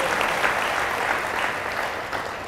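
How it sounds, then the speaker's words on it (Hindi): A church congregation claps together in thanks during a worship service, sustained dense applause holding steady throughout with faint crowd murmur underneath. "ताली बजाकर हम परमेश्वर का धन्यवाद करें"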